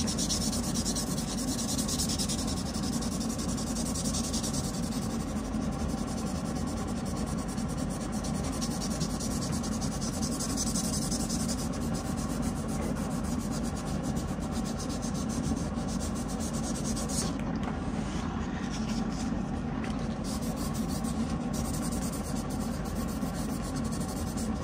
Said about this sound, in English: we're ready to make our biggest impact we can do, which is gonna be with our magic eraser